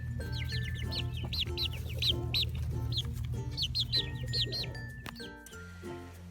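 Chickens and small chicks on a property cluck and peep, with repeated high chirps over low clucking and a steady background hum, fairly close and continuous.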